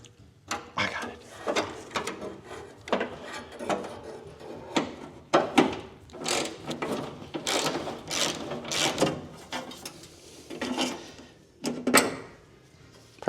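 A socket wrench with an extension works on an old 1977 Dodge: irregular ratcheting clicks and metallic rattles, close and moderately loud, with short pauses between bursts. Light shuffling of tools and parts runs underneath.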